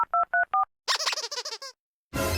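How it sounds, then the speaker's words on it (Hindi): A phone number being dialed: four short keypad tones, then a burst of ringing or connection tones and a stretch of noisy line sound, all close and clear. "अभी मैं मुंशी को फोन करता हूँ।"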